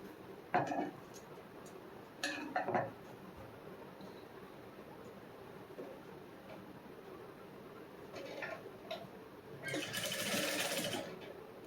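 A sewing machine stitching a back-open princess-cut blouse, with short bursts of rapid mechanical whirring separated by quiet pauses, the last run longer and louder, close and faint overall.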